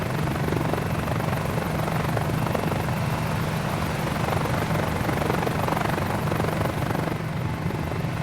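A Got Friends Mini 500 helicopter in Microsoft Flight Simulator 2020 holds a dense, steady rotor and engine drone with a rapid blade chop. It stays loud and unchanging throughout, heard from close inside the cabin.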